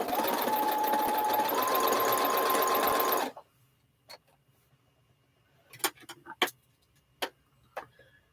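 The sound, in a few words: sewing machine sewing white blocks onto corners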